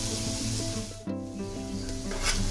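Garlic and onion fry in hot oil in a home kitchen, giving a steady broadband sizzle over a low background hum, with a brief scraping stir partway through.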